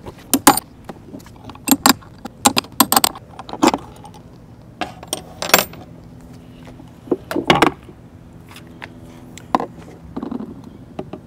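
Metallic clinks and rattles from an Allen wrench working a unicycle pedal loose on a King Song KS-18L: scattered sharp taps and jangles in irregular clusters, close up over quiet room tone.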